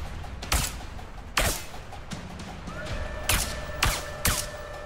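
Gunfire in the video game A Way Out: about five sharp, separate shots crack out at irregular intervals over a quiet background, with a faint electronic tone running in the latter half.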